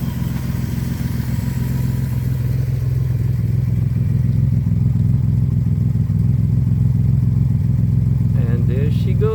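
A 1973 Citroen SM engine runs steadily after years sitting dormant, a loud continuous low rumble close by throughout, with brief squeaks or clatter near the end.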